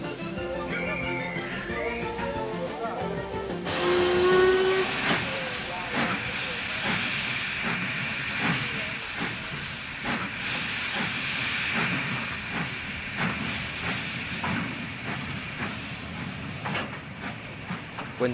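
Steam train hissing steadily in a dramatized audio story, a loud continuous hiss joined by rhythmic chuffing and clanking as it gets under way, with voices heard briefly at the start.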